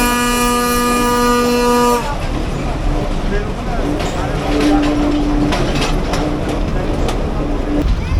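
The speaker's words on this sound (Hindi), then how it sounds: "और ठीक राइट टाइम 3:05 पर हमारी ट्रेन खुल चुकी है।" A Bhakra railway train pulls out of the station with a long, loud horn blast, then settles into a steady rolling rumble and clatter of moving wagons that continues close by.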